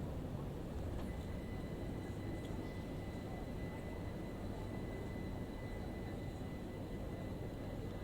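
A Class 378 electric train runs on the North London Line in a train simulator, giving a steady, even traction drone with faint high tones throughout and no speech.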